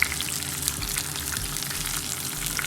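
Fish frying in hot oil in a pan for escovitch fish, a steady dense crackle and sizzle that runs close and even throughout without any voices.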